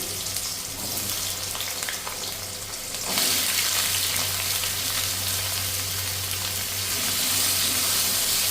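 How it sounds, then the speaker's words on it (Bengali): Finely diced potatoes fry in a pan for a mushroom curry, a steady broadband sizzle under a low hum that swells louder about a third of the way in and keeps going without a break. "আলুকে ছোট ছোট করে ডুমো ডুমো করে কেটেছি এই আলুগুলো দিয়ে দিলাম"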